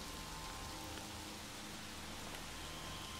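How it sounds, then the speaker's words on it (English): Steady rain falls in the video game The Evil Within, a soft, even hiss that holds unchanged throughout at low volume. "Rain falling on your face."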